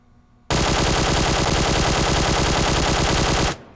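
Sustained full-auto burst from a QBZ assault rifle fitted with a flash hider in PUBG Mobile, loud, close and unbroken for about three seconds before cutting off abruptly.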